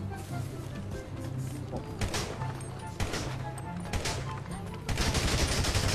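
Gunfire resembling a carbine rings out in several sharp cracks at roughly two, three and five seconds over a busy, noisy background with voices present.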